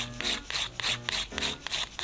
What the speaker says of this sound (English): So you're just going to file downward in the middle.